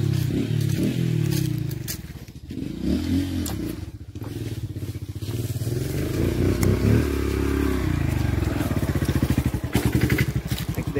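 A Honda Pop 110i motorcycle engine runs close by, with a low, uneven idle that throbs and clatters, plus a few scrapes and thumps.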